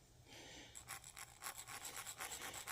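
A screw used as a cylindrical file rasps back and forth across a vintage gas pump casting, smoothing sand at the bevel: about a dozen rhythmic scraping strokes, close and fairly quiet, following a brief steadier rub.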